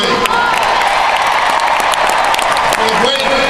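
A crowd applauds and cheers at a political rally in Newark with President Obama, steady clapping carrying on for several seconds with voices mixed in.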